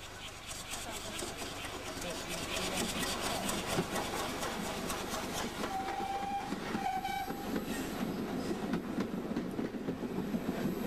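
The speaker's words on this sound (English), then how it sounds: "here comes the train" A train rumbles and rattles steadily close by, with metallic squeals and clanking as it rolls into Washford station along a long platform.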